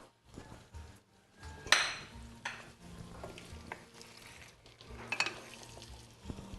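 A spoon stirring a curry in a pot, with the food sizzling in the pan; intermittent scraping and clanks against the metal, one sharper knock near the start, over a soft low frying hiss, close and fairly quiet, with no talking.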